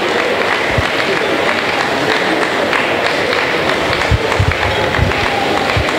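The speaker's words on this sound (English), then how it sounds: "Keep clapping for him." Audience applause for an award recipient at an awards and recognition ceremony, a steady dense crowd clapping with occasional louder thumps, sustained throughout with some voices mixed in.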